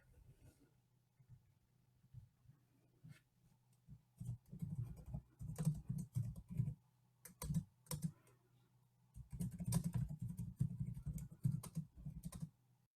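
Typing on a computer keyboard, with bursts of rapid clicking keystrokes separated by pauses, fairly close and alone with no voices.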